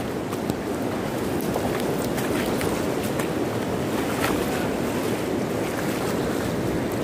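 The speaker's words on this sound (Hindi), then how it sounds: "गौला नदी।" The Gaula river flows past a muddy, marshy bank in a steady, loud, unbroken rush of water, with wind buffeting the microphone throughout.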